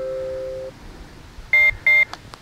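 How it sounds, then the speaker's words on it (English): Two loud electronic beeps from a driveway alarm, short and evenly spaced, after a brief low tone, with quiet outdoor background. "Two beeps, turns it off."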